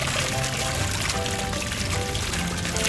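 Water sprays onto a house fire in a firefighter video game, a continuous loud gushing rush with no break and no voice over it.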